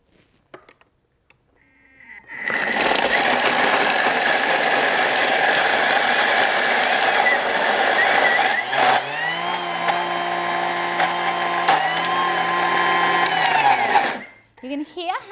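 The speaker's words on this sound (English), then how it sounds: "You can hear how the blade started to free spin, and it's a good indication that those ingredients are well combined." A Thermomix blending dried dates roars steadily at high speed for about twelve seconds, then its pitch shifts and smooths as the blade begins to spin freely, before the motor stops abruptly.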